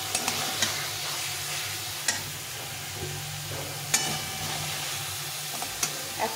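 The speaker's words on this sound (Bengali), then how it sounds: "এটাকে একটু নেড়ে চেড়ে ভেজে নিতে হবে" Pointed gourd with chhana frying in oil gives a continuous soft sizzle while a spatula stirs and scrapes it, with occasional sharper clinks against the pan throughout.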